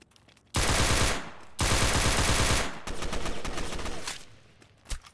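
Bursts of automatic gunfire from a gun in the Roblox game Fallen Survival, loud and close, in two long sustained volleys followed by a quicker rattling string and one final shot.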